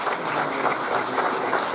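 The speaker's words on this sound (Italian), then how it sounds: "facciamo il primo vero grosso applauso della serata" A crowd at a Puglia wine and sax music evening applauds for a performer. A steady, even wash of clapping runs through the whole stretch at moderate volume.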